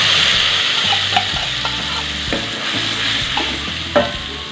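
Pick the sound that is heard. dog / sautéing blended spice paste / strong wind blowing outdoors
sautéing blended spice paste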